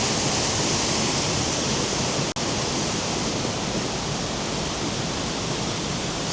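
Aira Force waterfall in England roars as a constant, dense rush of falling water, loud and near, one brief dropout near the middle, no voices.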